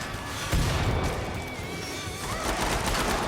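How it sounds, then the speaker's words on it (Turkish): Gunfire and a thrown bomb burst in the video game Killing Floor 2, a dense, loud barrage of shots and crashes running continuously with no pause. "Bomba atıyorum."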